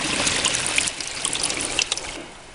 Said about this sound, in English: Sluice box is running.